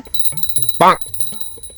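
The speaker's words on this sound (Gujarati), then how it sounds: "ઘંટરી તો વગાર" A small prayer bell gives one short bright ring at a household puja, set among quick chatter as people hurry to light incense.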